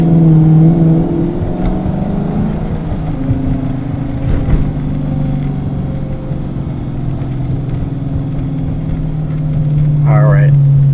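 A car fitted with a newly installed Diablo tune and unlocked PCM drives with a loud, steady engine drone heard from inside the cabin, and a voice briefly comes in near the end.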